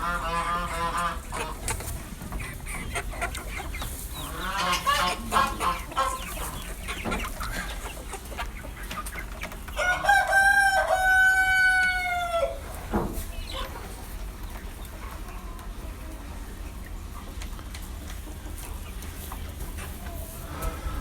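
Roosters crow loudly in a winter coop, one long drawn-out call standing out near the middle, while hens cluck and chatter steadily throughout.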